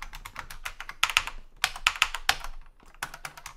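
Keys clatter on a computer keyboard while C code is typed on Linux, a close, steady run of quick clicks in short bursts with brief pauses, no voices.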